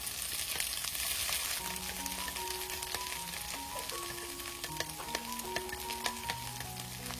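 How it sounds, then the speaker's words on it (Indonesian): Pecel spice paste with palm sugar and tamarind sautéing in a little oil, a steady close sizzle and fry crackle with scattered pops and faint tonal squeaks from stirring, no voices. "Nah, ini kita tumis ya teman-teman."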